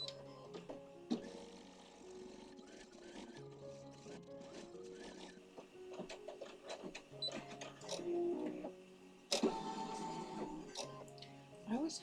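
An embroidery machine sews a satin stitch around a basket design with a steady whirring motor hum and rapid mechanical needle chatter. A voice talks over it, and the machine grows louder and busier near the end.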